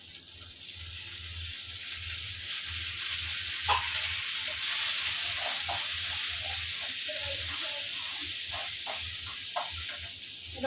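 Onion, green chilli and beans frying in a pan, a steady hiss of frying with scattered stirring clatter, moderately close, while a person talks over it.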